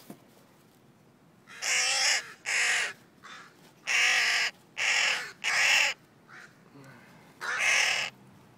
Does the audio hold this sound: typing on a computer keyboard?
no